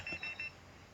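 Alarm clock going off inside the Roblox game Bloxburg: a few quick high electronic beeps in a short repeating cluster, fairly faint, over a steady low background hum.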